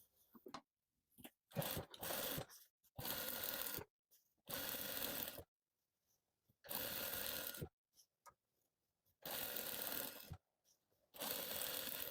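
A sewing machine stitches an Oxford fabric binding strip onto the edge of a rag rug in about six distinct bursts, each a close, steady whir lasting around a second, separated by silent pauses.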